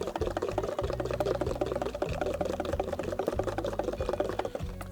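Rum-flavoured whipped cream is beaten with a whisk in a bowl, a rapid, regular rattling and tapping that runs continuously up close with a low motor-like hum beneath.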